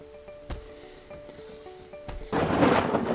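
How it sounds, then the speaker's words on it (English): A lightning strike with rolling thunder in the WorldBox sandbox game: a sharp crack, then a loud, broad rumbling roar that swells in the final second, heard alone without talk. "Whoa, that was a big lightning strike there."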